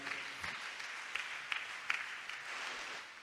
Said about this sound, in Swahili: Pige Yesu makofi.